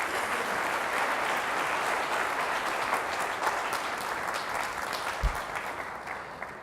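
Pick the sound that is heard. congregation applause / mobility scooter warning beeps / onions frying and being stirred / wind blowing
congregation applause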